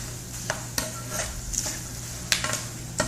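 Raw peanuts with turmeric fry slowly over lowered heat in a pan, a soft steady sizzle broken by scattered sharp clicks of a utensil stirring against the metal.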